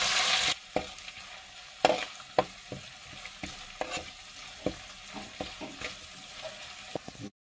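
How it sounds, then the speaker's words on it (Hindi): Onions fry with garlic, ginger and chili paste in a pan, a soft steady sizzle broken by frequent scraping and tapping clicks from stirring, close up and without talk. "लहसुन अदरक मिर्ची का पेस्ट हम प्याज के साथ हमने भून लिया।"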